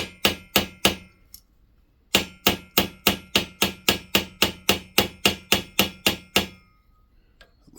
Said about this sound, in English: Looks like that's peening in very nicely.